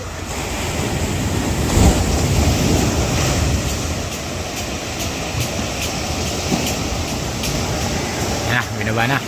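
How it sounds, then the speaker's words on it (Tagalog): Large ocean waves roar and wash continuously in a loud, wind-blown surf wall around a fishing boat, with voices talking over the rushing water. "Galingan mo sa alon. Malalaki yan."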